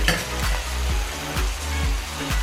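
Shrimp lo mein with spaghetti squash, garlic powder and ground ginger being stirred in a hot pan, with rhythmic scraping strokes roughly every half second over a steady loud sizzle.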